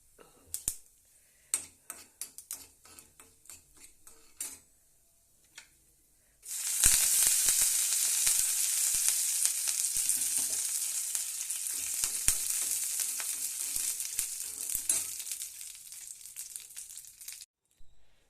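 Urad dal, chana dal, a dry red chilli and curry leaves hit hot oil with a sudden loud, steady sizzle and crackle that holds for about ten seconds, after a few quieter clinks and taps.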